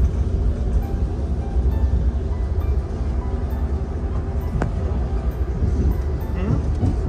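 An Amtrak passenger train rolls along the California coast, heard from inside the carriage as a constant low rumble with faint rhythmic rail clicks and occasional brief squeals, steady throughout.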